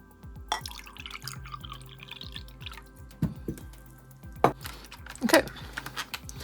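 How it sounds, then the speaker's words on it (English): Water drips and trickles onto a paint palette while setting up tempera paints, a rapid run of small wet taps and splashes, close and fairly quiet, with a few louder drops standing out. "let's add some water."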